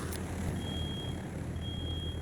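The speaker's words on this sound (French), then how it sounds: "on entend carrément l'alarme" An electronic alarm in a Sniper Elite mission: a thin, high, steady tone sounds in two long stretches over a constant noisy rumble, with no talk.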